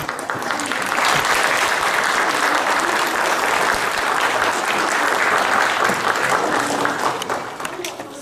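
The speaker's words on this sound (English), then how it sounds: "Give them a big round of applause again." Warm, sustained audience applause following stage performances, many hands clapping evenly throughout and easing off slightly at the close, with some voices faintly mixed in.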